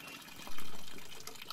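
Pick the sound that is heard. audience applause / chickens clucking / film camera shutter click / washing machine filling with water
washing machine filling with water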